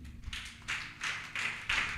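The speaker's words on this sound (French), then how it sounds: "Applaudissez le Seigneur Jésus." A church congregation applauding during a sermon, a rhythmic run of about six claps building in strength over two seconds, close and fairly clear.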